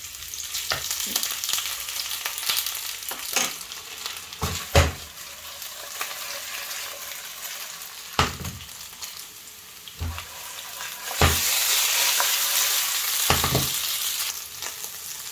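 Potatoes sizzle steadily in a hot pan, with occasional scraping stir strokes and clinks over the continuous frying hiss; no talking.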